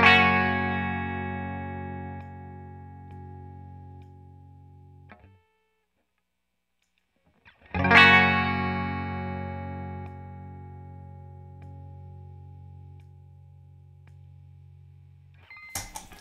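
Electric guitar run through a Carl Martin compressor set to an 8:1 ratio: two sustained chords ring out and decay slowly with the sound held up, separated by a short silence, then a brief third strum at the end.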